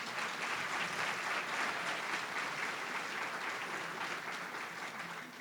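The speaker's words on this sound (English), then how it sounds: "Let's give them a round of applause." At an AmeriCorps anniversary celebration and opening ceremony, an audience gives the Serve Wisconsin staff a round of applause, a dense, sustained roar of many hands that holds steady and tapers slightly at the end.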